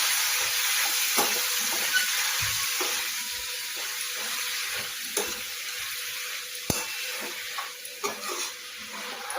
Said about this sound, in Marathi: तूप आपलं गरम झालं की त्यामध्ये आपल्याला आधी गाजर किसलेलं आहे ते घालायचं।